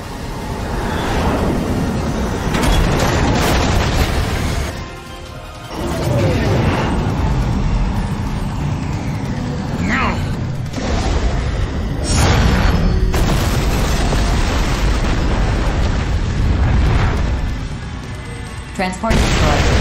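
A transport blows up in the mech action game Daemon X Machina, with heavy booming blasts and rumbling layered over dense game noise, and a voice speaks partway through.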